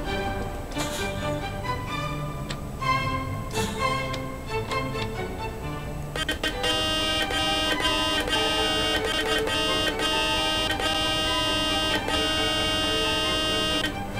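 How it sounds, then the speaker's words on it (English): In Bus Simulator 18, a bus horn sounds as a long, sustained blaring tone in the second half, after a stretch of ticking and engine-like game sounds. "So can I actually honk the horn?"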